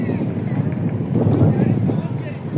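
An empty cargo ship on the river run from Barisal to Chittagong, with a steady low rumble of the engine and water under strong wind noise, and faint voices mixed in.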